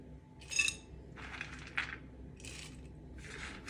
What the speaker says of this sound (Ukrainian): Гілочки нарізаємо на невеличкі шматочки.